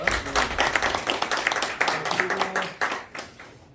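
A small lecture audience gives scattered applause for a local museum curator introduced at a history talk, individual claps clearly separable and uneven, with a voice murmuring over parts of it before the clapping thins out.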